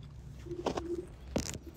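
Outdoor birds, likely pigeons or doves gathered for popcorn feeding, give two short, soft coos close by against low background noise.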